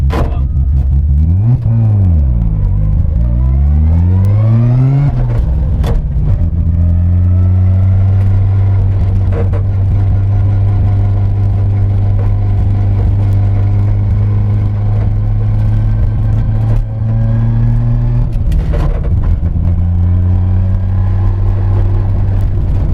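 A loud engine in a street-driven 700 hp Mazda RX-7 Series 3 race car revs up and down, then settles into a sustained, rumbling drone before rising again near the end.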